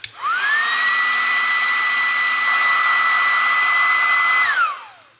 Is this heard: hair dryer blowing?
yes